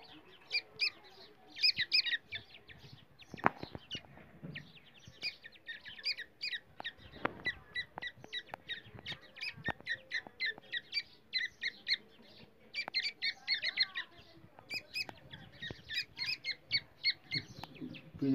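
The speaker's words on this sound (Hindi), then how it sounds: "तीतर के बच्चे हैं।" Partridge chicks chirp and squeak in rapid, high-pitched bursts, many close calls overlapping throughout, with a few louder clicks and knocks mixed in.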